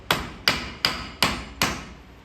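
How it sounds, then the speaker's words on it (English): Hammer striking a flathead screwdriver to drive out the pinion seal on a Super Duty Dana 60 axle, five sharp metallic blows at a steady, roughly half-second rhythm, close and loud with no talking. "grab your best brand new flathead screwdriver and then your biggest hammer"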